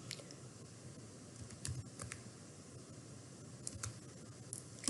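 Quiet keystrokes on a computer keyboard as a program name is typed into ABAP development software, light irregular taps over a faint steady background hiss, with no talking.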